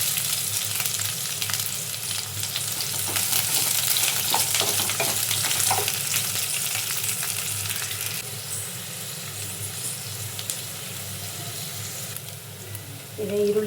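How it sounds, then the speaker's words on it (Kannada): Sliced onions fry in a pan for a green gram stir-fry, giving a steady, close, broadband sizzle with occasional stirring scrapes and a brief water-like splash near the end. "ಈರುಳ್ಳಿ ಫ್ರೈ ಆಗಿದೆ"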